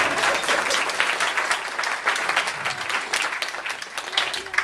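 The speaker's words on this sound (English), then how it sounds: "go ahead and clap, that's good." Audience at a comedy and magic club breaks into loud, close, dense clapping that carries on steadily throughout.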